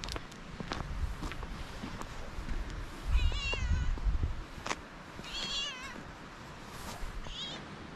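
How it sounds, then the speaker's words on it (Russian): A cat meows repeatedly and close by outdoors in a botanical garden in winter, with a few footsteps and faint background noise between the calls. "Друзья, кот никак не отстает от меня."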